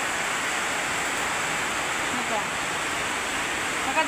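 Heavy rain pouring down outside a house, a dense, steady broadband roar with no breaks, loud and close, like a constant wash of falling water.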